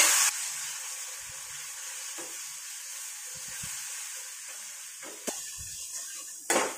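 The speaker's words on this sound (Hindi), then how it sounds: "और मसाला भूनते ही बारीक कटा हुआ टमाटर डाल देंगे।" Chopped tomato hitting hot spiced oil while cooking chana dal, a steady soft sizzle and hiss with a few sharp clinks of a utensil against the pan.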